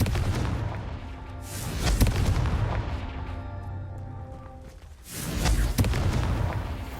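A Confringo fire spell bursts in Hogwarts Legacy, loud booming explosions with rumbling low-end blasts near two and five seconds, alongside continuous game combat noise and no talk.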